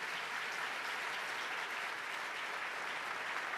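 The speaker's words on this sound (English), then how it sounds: "Let's give him a big round of applause and a moment of recognition." Sustained applause from a large audience at a state governor's annual address, dense and steady clapping filling the hall throughout with no pauses.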